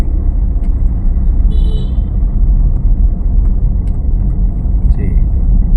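A car rolls down a slope on the brake alone with the clutch held down. A steady low engine rumble fills the cabin, with a few faint high chirps and a voice speaking quietly in between.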